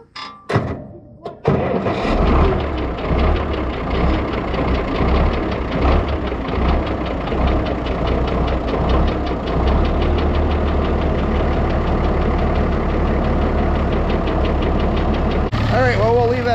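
An International 1256 tractor starts after a few cranking bursts and settles into a loud, steady diesel idle with a knocking rumble that runs close by to the end.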